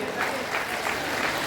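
An audience claps at a gathering of the Triveni Ved Vidyapeeth in Siliguri, a steady, even wash of applause across the whole moment, with some talk mixed in.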